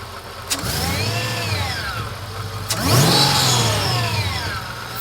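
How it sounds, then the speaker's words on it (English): Mercedes E55 AMG engine with a custom intake, warmed up and blipped twice in quick revs that rise and fall over a steady idle, loud and close with no talking. "I'm gonna give it a few revs. That way, like, you kind of hear the sound of it warmed up with this intake."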